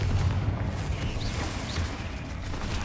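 The Confringo explosive spell in Hogwarts Legacy lands as a deep, rumbling blast, with a low boom rolling on and fading over a few seconds, plus faint magical whooshes above.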